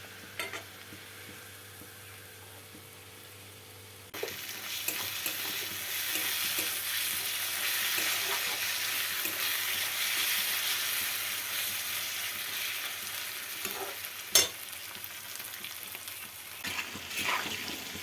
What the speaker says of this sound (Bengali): ওই যে মাংস আলুটা দেখো অন্য কড়াতে ভাজছি।